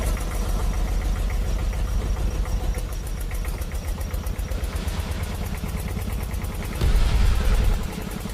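A farm tractor engine runs at a steady, throbbing idle close by, its rapid knocking pulse continuing throughout and swelling louder briefly near the end.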